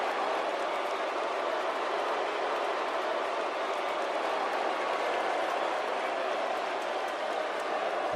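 Arena crowd in the WWE 2K18 video game, a dense and continuous roar of cheering and applause from a large audience, loud and steady with no breaks.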